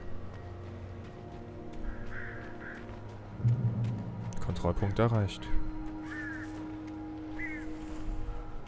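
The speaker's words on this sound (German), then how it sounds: "Nicht cool, Raben." Ravens caw harshly in the dark woods of Alan Wake, a few rough calls rising mid-clip over a low droning ambience, while a voice speaks briefly.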